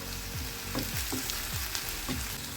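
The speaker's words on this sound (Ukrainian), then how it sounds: "Смажу на середньому вогні." Liver and vegetables fry in a pan over medium heat, giving a steady, dense sizzle throughout, with several soft scraping stirs of a utensil against the pan bottom.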